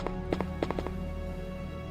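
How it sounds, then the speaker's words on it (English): Footsteps in a video game sound as a few sharp, clopping taps in an uneven cluster, fairly faint against a steady background hum, with no talk. "I heard footsteps."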